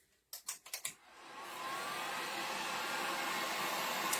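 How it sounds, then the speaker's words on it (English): Handheld sander running over small painted craft pieces for a strawberry fairy house, a few sharp clicks and taps followed by a steady, faint whirring hiss that holds to the end. "kind of take the sander over them and sand them"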